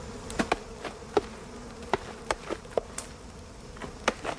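Wasps buzzing close by amid smoke near the Orinoco headwaters, with a faint steady drone and repeated short clicks or taps scattered throughout.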